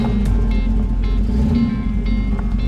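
Idling 1931 two-door sedan with a small block Chevrolet engine and turbo transmission, a steady loud low rumble close by with slight fluctuations, no speech.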